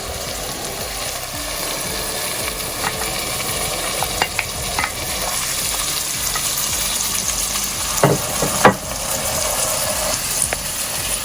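Ground spice paste sizzles and fries in a pan with sautéed onions for a shark curry, a loud, steady close-up crackle broken by scraping stirs and a few clanks; no talk.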